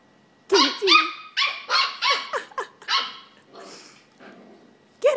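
A puppy barks in a rapid run of sharp, high yips and barks with a few growly edges, loud and close, trailing off into softer calls before a last bark.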